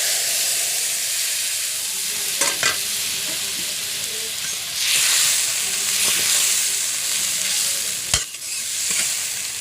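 A watery paste of ground mustard and cumin hits a hot pan while cooking pabda fish, throwing up a loud hissing sizzle that swells midway and stays up close, with a few clinks of stirring and no talk.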